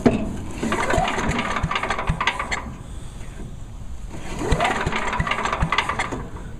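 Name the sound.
Troy-Bilt Chipper Vac small engine trying to restart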